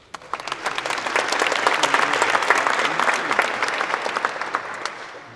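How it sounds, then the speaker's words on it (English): A room full of people applauds family and friends at the Sotheby's Institute of Art New York 2024 graduation ceremony, steady, dense clapping that swells quickly and holds evenly for several seconds. "let's give another round of applause for the family and friends in the room"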